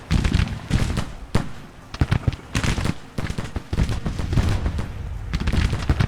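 Troops firing in the video game Grand Tactician: The Civil War: continuous ragged volleys of rifle fire crackle at a moderate distance, with dense overlapping pops and occasional heavier booms throughout.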